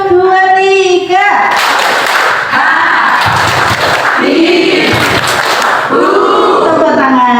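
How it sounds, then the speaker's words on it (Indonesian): A group claps together at a primary school teachers' working group meeting, a dense burst of hand claps in the middle framed by loud shouted group voices before and after. "Tepuk tangan."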